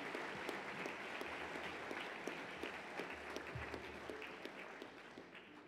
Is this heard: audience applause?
yes